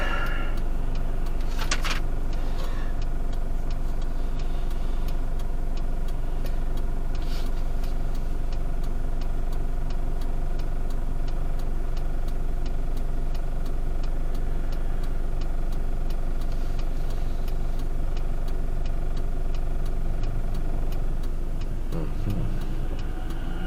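Steady low rumble of car traffic with engines idling in holiday road construction congestion, a continuous near drone with faint ticking and a few brief higher swishes.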